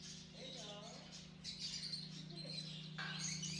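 Caged birds in a London pet store, including lovebirds and doves, chirping and squawking in short bursts against a steady electrical hum, with a voice talking nearby.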